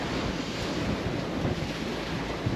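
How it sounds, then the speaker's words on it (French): Sea waves wash and slosh around a sailing boat under way in growing seas, a continuous, dense rush with gusts of wind buffeting close by. "la mer commence à grossir un peu plus"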